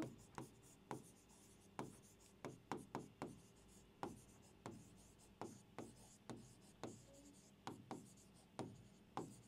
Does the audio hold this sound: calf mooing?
no